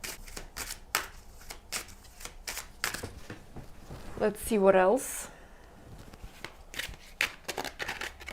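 A deck of tarot cards shuffled by hand during a reading, giving repeated soft riffling and slapping bursts, with a louder flurry near the middle, heard under a person talking.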